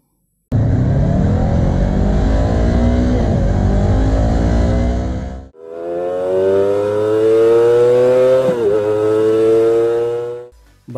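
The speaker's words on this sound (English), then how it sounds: "here is the sound of both motorbike." Two motorcycle engines, a Kawasaki ZX-25R and a Yamaha R3, rev in turn, each a loud, sustained whine that rises and falls in pitch, the second starting after a brief drop and sounding higher.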